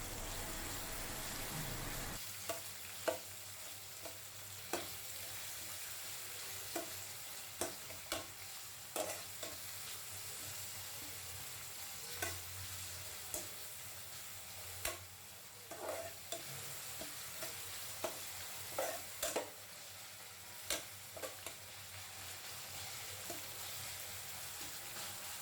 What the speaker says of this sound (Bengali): এখন এই পেঁয়াজগুলোকে ভালোভাবে নেড়ে চেড়ে হালকা ভাজা ভাজা করে নিতে হবে।